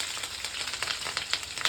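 Chopped green chilies and onions sizzle and crackle in hot oil with mustard seeds, cumin, chana dal and turmeric, a steady close frying hiss with small pops and no talking.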